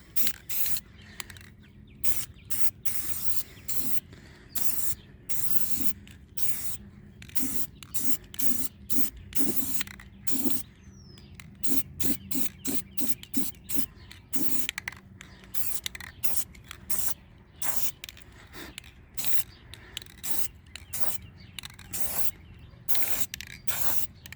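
A coating is sprayed onto a 1970 Jayco pop-up camper in repeated short bursts of bright hissing spray, close and uneven in rhythm across the whole stretch.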